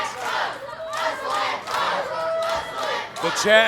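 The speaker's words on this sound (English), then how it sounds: "The crowd chanting for Hustle and Flow" A wrestling arena crowd chants for the tag team Hustle and Flow, rhythmic rising and falling voices in repeated bursts, loud and massed, with cheering swelling at the end.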